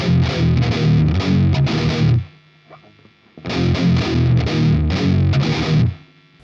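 Distorted electric guitar in Eb tuning chugging a fast death-metal riff, two loud, dense bursts of palm-muted power chords separated by a short near-silent gap with faint string noise.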